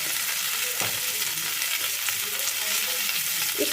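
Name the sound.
stirring spices frying in pan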